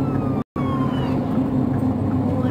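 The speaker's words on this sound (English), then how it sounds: "I see sirens." A distant emergency vehicle siren sweeps steadily on a road, heard faintly from inside a moving car over a constant engine and road rumble, with a brief dropout early on.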